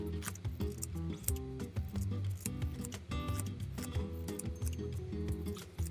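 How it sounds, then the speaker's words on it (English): Scissors snip through large sheets of pink and blue felt paper for giant craft sprinkles, quick crisp cuts repeating steadily under loud background music. "So we got these large pink and blue felt paper that we're going to cut and make large sprinkles out of"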